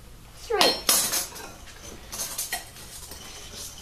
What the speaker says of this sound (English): stir that up until the sugar is dissolved.